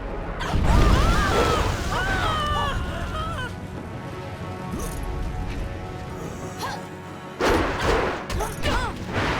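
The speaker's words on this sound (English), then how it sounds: "Cannon fire! Look out!" Cannon fire from the Jade Empire video game, with heavy booming impacts and crashes at the start and again near the end, mixed with game music and shouted voices.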